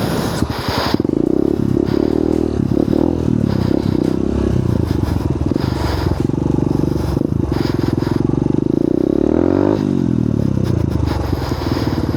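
A light motorcycle runs through an obstacle course, its engine droning loudly and continuously with rising and falling revs and some clattering as it negotiates the obstacles.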